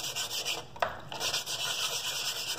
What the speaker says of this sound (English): start sanding it, and the whole stone is going to have to be sanded at this point to get you that perfectly smooth edge